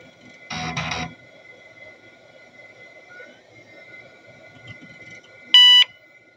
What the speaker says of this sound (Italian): Sì, un bip solo!